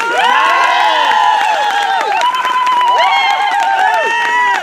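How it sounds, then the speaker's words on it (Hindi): A crowd of voices cheers and shouts loudly and continuously at a career opportunity programme gathering in Gatadih, with overlapping high calls rising and falling throughout and no distinct clapping standing out. "सुनिए सुनिए, उनके लिए तो ताली चाहिए"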